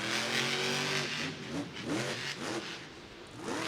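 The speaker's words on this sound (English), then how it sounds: "And Ryan Anderson lines up, comes across the car stack, and son of a digger, powered by Hoonigan, is off and running." Son-uva Digger monster truck, powered by Hoonigan, revving hard at a Monster Jam stadium show, a loud continuous engine roar rising and falling with throttle over crowd and arena noise.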